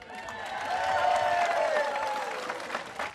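An audience at a village talent show applauds and cheers in a short burst of dense clapping that rises, holds and then tails off. A few voices and whistles show up in the crowd noise.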